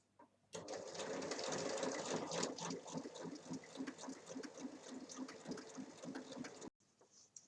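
A sewing machine stitches a bag's lining, running in a steady, fast mechanical whir with a clear stitching rhythm after a short quiet start and stopping abruptly near the end; close and fairly loud.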